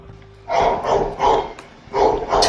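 A dog in a Minecraft horror map video game barks in a run of about five rough, evenly spaced barks, moderately loud against a quiet background.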